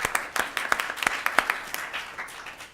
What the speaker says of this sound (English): Can we give him a round of applause also?